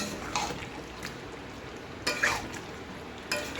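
Ladle scraping around a pot as desi chicken is stirred together with fried potatoes, a few soft scrapes and knocks spaced out over a quiet background, no voices.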